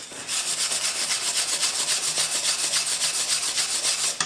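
A wire brush scrubs rapidly back and forth over a riveted metal part blackened with soot from heating. The strokes are close, steady and harsh, running almost without pause until one last scrape at the end.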